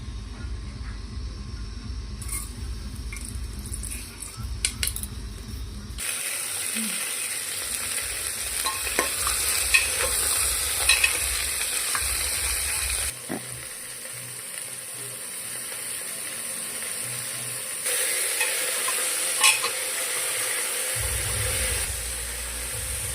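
Hot oil sizzles in a pressure cooker for a brinjal and potato curry with bay leaf and whole cumin: a steady, fairly close frying hiss that swells and eases in stages, with occasional light clinks and no voices.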